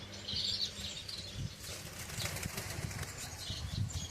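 Pigeons flap their wings at a bird farm in a few soft bursts of fluttering, with faint chirps and coos scattered over a low, steady background murmur.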